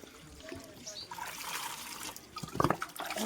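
Water runs from a tap in a household setting, a light trickling and splashing stream that swells toward the end, heard close with a voice murmuring faintly in the background.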